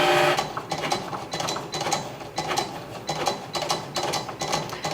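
A Cricut Explore 3 cutting machine draws with a pen. Its carriage whirs and ratchets in quick, repeating mechanical bursts that sound close and steady, with no talking.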